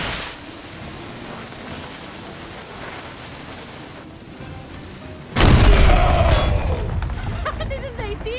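A cannon fires in the swashbuckling game En Garde! as a sudden loud boom at about five seconds, its rumbling blast and crackle sustained to the end after a quiet stretch of ambient noise.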